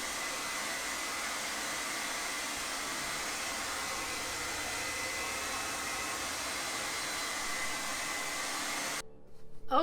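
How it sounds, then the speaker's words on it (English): A hair dryer blows in a steady, close, continuous roar over a layer of paper mache on a mask, cutting off abruptly near the end. "we can speed up the process with a hairdryer"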